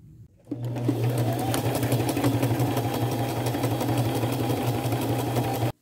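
A sewing machine zigzag stitching around a patch on denim jeans, running at a steady, even hum with a rapid needle clatter for several seconds before stopping abruptly, close and alone with no talk.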